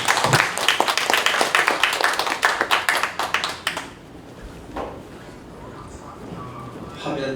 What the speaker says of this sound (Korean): 나오실 때 힘차게 박수하시겠습니다.